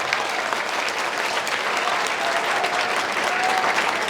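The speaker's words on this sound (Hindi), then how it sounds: "अपने सभी अध्यापकों के लिए एक बार जोरदार तालियां बजा दीजिए" Students in a NEET revision session applaud their teachers, giving dense, loud, continuous clapping from a big crowd throughout.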